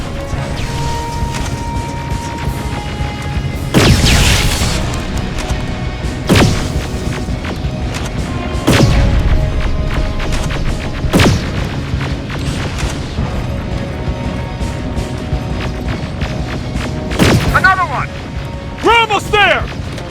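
Heavy gunfire and explosions in the video game Terminator Resistance: loud booming blasts and thuds at intervals over continuous battle noise, with shouted voices and a brief electronic whine near the end.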